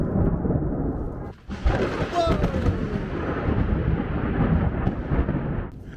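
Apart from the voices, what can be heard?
thunder from a huge lightning strike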